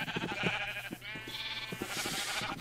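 Sheep bleating in a video game, a series of short wavering bleats repeating close by over a busy background of game sounds.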